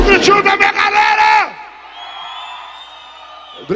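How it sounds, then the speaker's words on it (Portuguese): A live concert crowd in Patis, Brazil, screams and cheers in loud, excited bursts of whoops and yells. The noise then fades into a thin sustained tone and a quieter hall. "Cadê o gritinho da minha galera?"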